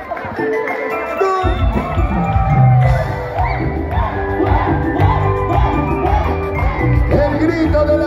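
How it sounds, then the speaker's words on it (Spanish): A live audience of single girls screams and whoops loudly at a church cantata concert, a sustained, high, excited crowd cry over ongoing music. "El grito de las chicas solteras."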